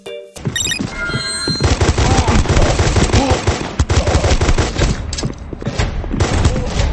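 Gunfire from Guns of Boom, a colourful multiplayer first-person shooter for Android and iOS, comes as loud, dense rapid bursts that run almost without a break. Brief electronic game tones sound at the start.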